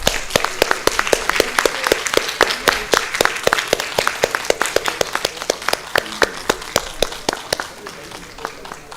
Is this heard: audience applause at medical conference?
yes